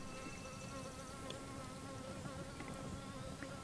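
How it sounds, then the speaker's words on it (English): A bee buzzing around a person's head beside burned beehives, a close, steady droning hum that wavers slightly in pitch as it circles, continuing the whole time with no speech over it. "I got a bee flying around my head."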